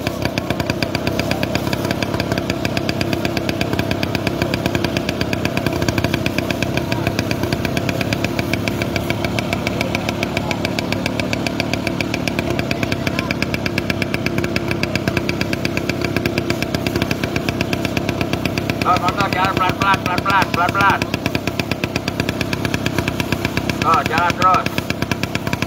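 Motorcycle engine running steadily on a road near a garbage dump fire in Palabuhanratu, a continuous loud drone throughout with wind and road noise, a voice speaking over it.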